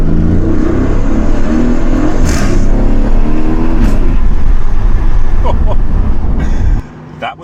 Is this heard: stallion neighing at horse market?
no